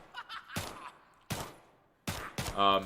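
Three sharp gunshot bursts from a gold Glock pistol in the survival shooter The Day Before, each a loud crack with a short decaying tail, spaced roughly evenly, the last followed by a tonal ringing.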